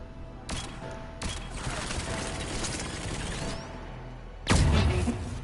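Handgun fire in the video game Mass Effect 3 during a combat corridor fight, sharp bursts of shots over a dense game soundscape, with a loud blast near the end.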